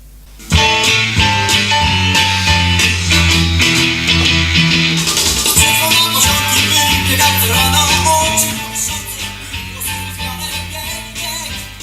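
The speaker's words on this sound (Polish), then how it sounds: "To, co słyszycie, to pierwotna, surowa wersja utworu" A rough-sounding raw early recording of a rock song: full and loud with distorted guitars, steady drums and sustained chords; no one talks over the music.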